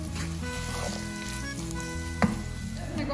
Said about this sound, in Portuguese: Eu gosto de dar uma refogada na carne. Vou colocar cebola. Vamos deixar essa cebola murchar um pouquinho